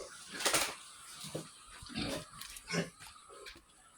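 A sow called Mama Pig grunts several times in short, separate bursts at a farm pen, faint and somewhat distant, with quiet gaps between the snorts.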